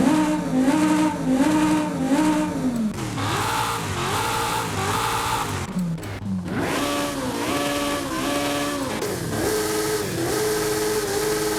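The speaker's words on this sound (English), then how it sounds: "Let me just scroll through these engines and rev it up so you can hear the difference between them." Several DeLorean DMC-12 engine swaps in the video game Forza Horizon 5 rev in turn, each burst rising and falling in pitch, with one brief cut near the middle and a different, harsher engine tone afterward.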